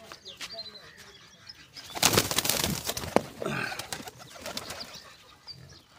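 Pigeon wing flaps and faint cooing near a person trying to catch a black racing pigeon by hand, with a loud burst of fluttering in the middle and quieter rustles before and after.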